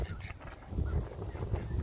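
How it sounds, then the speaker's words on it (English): Baby geese at a lake honk in a steady run of soft, nasal calls, fairly close and continuous, with no talking. "Look, there's the little baby geese."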